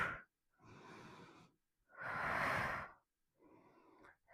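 Deep breaths during a full-body Pilates sculpt workout: a short exhale, then two longer inhale-exhale breaths and a softer final one, close and fairly quiet, with no talking.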